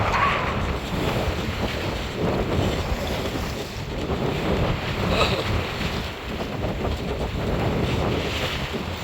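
Strong, gusty wind of about 18 to 26 knots buffets the microphone aboard a sailboat on Chesapeake Bay, a loud continuous roar with rushing water beneath that swells and eases in waves.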